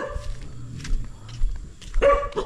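A dog barks a few times at a house in a grassy rural yard, sharp, fairly close barks spaced through the moment with faint footsteps and background noise, no clear talk.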